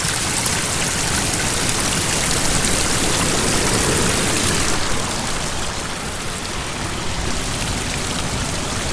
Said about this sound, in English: If I see water coming straight out of the ground, I feel it's a pretty safe source.